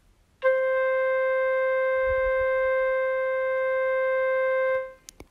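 One sustained musical note held long under a fermata, a clear steady tone ringing alone for about four seconds before stopping.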